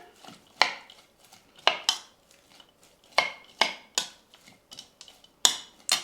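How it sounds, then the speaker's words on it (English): Vegan taco filling with lime juice being stirred in a pan, a series of sharp metallic spoon knocks and scrapes against the cookware, roughly a dozen spaced clatters over near silence. "we're going to give it a stir"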